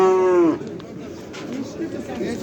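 A cow at the Oqtepa livestock market lets out one loud, close moo that falls in pitch and stops after half a second, followed by a crowd of people chattering nearby.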